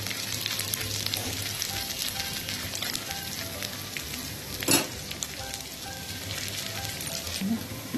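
Food sizzles and fries in a pan, stirred until red-brown, with a continuous moderate crackle, scattered scrapes of the spoon and one sharper clatter midway; no one speaks.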